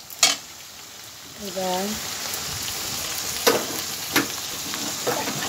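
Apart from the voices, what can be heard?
chopped onion frying in a pan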